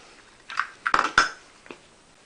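The slide of a Hi-Capa 5.1 airsoft pistol is pulled off the front of the frame during disassembly, giving a few close, crisp metallic clicks and scrapes in quick succession.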